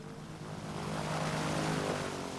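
A propeller airplane flies in to land at a village airstrip in the Kayapo lands of Brazil, its engine droning steadily and growing slightly louder as it nears.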